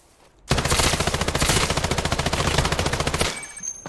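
Rapid automatic gunfire bursts loudly for about three seconds in the survival shooter Islands of Nyne, a dense rattling stream of shots before cutting off into quieter game ambience.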